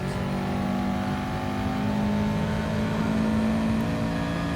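A race car engine in Gran Turismo Sport at Dragon Trail Gardens drones at a steady, held pitch through a daily race lap, with a sustained tonal hum and no speech.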